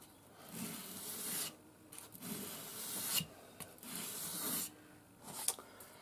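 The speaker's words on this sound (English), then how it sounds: "This is a sharpening technique." Rhythmic rasping strokes rub a Mora knife's blade during convex sharpening, about six back-and-forth passes with short pauses between, quiet and close with no talk.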